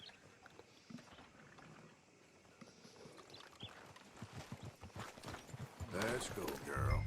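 Horses trotting in Red Dead Redemption 2, a soft rhythmic clip-clop of hooves that grows busier and louder toward the end amid quiet ambient game sound.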